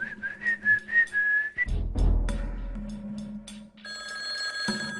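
A telephone rings in a short electronic trill, then a brief rumble and a steadier tonal ring, moderately quiet with no talk over it.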